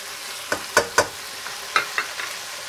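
Spices such as turmeric, black pepper and garlic powder sauté in a pan for eggplant rice, giving a soft sizzle under a handful of sharp utensil clicks and scrapes, close and fairly quiet.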